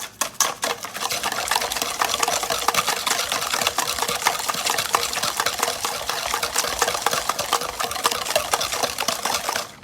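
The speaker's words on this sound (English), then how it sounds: "mix this really well before you add your other ingredients" Banana bread batter mixed vigorously by hand with a utensil in a bowl before the flour goes in, a steady, dense run of close scraping and stirring strokes that continues for the whole stretch without a break, no voices.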